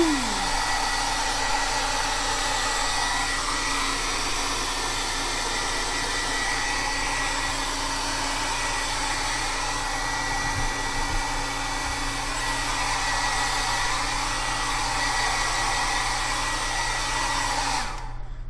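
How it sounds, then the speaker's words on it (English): A homemade heat dryer with a fan and heat lamp blows steadily at close range, a loud constant whooshing drone that holds unchanged for nearly the whole stretch before cutting off at the end. "I made this dryer here where I can turn this light on and that fan to blow heat"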